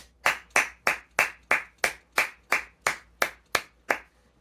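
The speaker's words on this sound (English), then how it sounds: "let's give him a round of applause for Mr." Eleven sharp, evenly spaced hand claps ring out close and alone, applause for Mr. Murray from a single clapper with a slow, steady rhythm and no talk.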